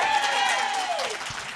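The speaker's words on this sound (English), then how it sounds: "any more clapping?" Audience applause at a panel event's award introduction, a sustained patter of clapping with a faint tonal sweep beneath it, fading slightly toward the end.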